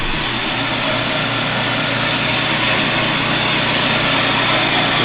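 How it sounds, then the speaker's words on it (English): A TURNPRO 7x12 geared-head band saw runs under power with a steady, even mechanical whir and motor drone that holds constant and loud throughout. "Here's a TURNPRO 7x12 bandsaw. We're powered up just to show you that it does operate."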